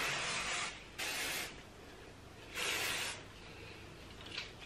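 Short bursts of hairspray, two longer hisses and a brief final puff, fairly close with quiet room noise between.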